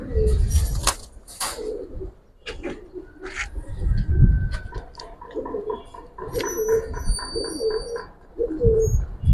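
Several silver and bagha pigeons in a collection coo in soft, repeated throaty bursts close by, with wing flutters, shuffling and occasional quiet voices among the cooing.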